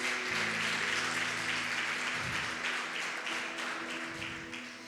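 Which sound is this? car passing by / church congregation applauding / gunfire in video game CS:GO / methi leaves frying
church congregation applauding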